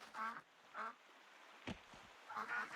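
A cartoon duck character gives three nasal quacks: two close together at the start and one near the end. A short sharp knock falls between them over a quiet background.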